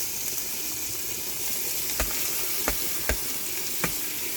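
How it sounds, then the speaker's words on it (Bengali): Fish sizzle and fry in spice paste in a pot over a clay stove, a steady crackling hiss with a few sharp clinks of a utensil against the pot near the end. "মাছগুলো এখন দিয়ে দিচ্ছি"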